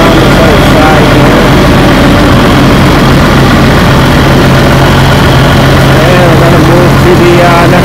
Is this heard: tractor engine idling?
yes